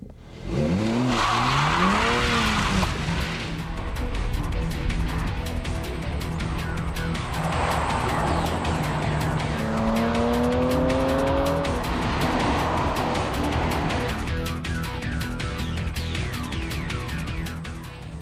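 An all-new 2007 BMW 335i sports car driven hard, engine loud and close throughout with rising and falling revs and repeated drawn-out tire squeals through corners.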